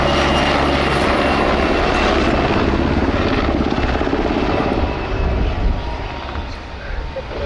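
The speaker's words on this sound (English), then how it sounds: "is a medium-sized, twin-engine, multi-purpose helicopter" A medium-sized twin-engine multi-purpose helicopter roars close by at the RIAT airshow, its steady rotor and engine noise loud and continuous throughout, easing slightly toward the end.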